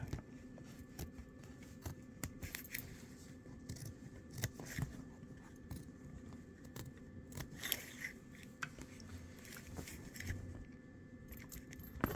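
Scissors snip through the stitching line on a pair of jeans, so the denim can fray a little without reaching the seam. Repeated small clipping and crunching sounds run close up, with no voices.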